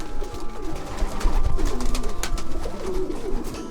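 Racing pigeons coo softly amid a busy background of rustling and fluttering, a low continuous murmur of birds close by.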